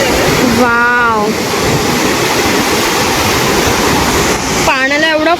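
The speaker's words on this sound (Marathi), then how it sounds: "पाण्याला एवढा फोर्स आहे." Forceful water roars continuously from a waterfall near Vangni, loud and steady, with a person speaking over it at the start and again near the end.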